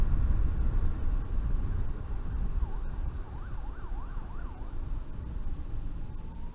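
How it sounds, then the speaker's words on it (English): Emergency vehicle sirens wailing in city traffic, the rising and falling tone cycling several times at moderate distance over a rumbling road and engine noise. "I'm sure you guys don't want to hear all these sirens and shit."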